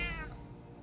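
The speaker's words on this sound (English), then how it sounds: "That's the cat." A cat in the video game Metaphor: ReFantazio gives a single short, high meow that slides downward and fades within a second, faint and alone.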